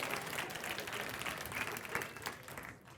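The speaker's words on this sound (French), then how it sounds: "Applaudissez-les, ils vous ont donné un excellent spectacle." Audience applause for two improv teams at a Bol d'or improv match, a dense, steady crowd clapping that fills the room and fades slightly at the end.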